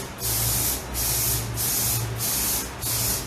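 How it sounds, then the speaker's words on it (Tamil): Shine spray misted onto hair during bridal hairstyle prep: about five quick hissing aerosol bursts in close succession, loud and near, over a low steady hum. "நான் என்ன பண்ணுறேன்னா ஷைன் ஸ்ப்ரே அடிக்கிறேன்"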